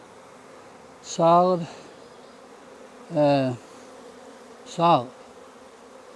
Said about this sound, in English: You shake these bees off. Shake them all down in there.